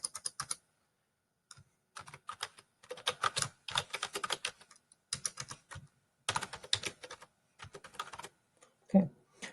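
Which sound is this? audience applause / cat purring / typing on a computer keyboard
typing on a computer keyboard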